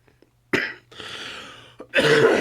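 A harsh cough breaks out, followed by a rough throat-clearing rasp and another loud cough, close to the microphone.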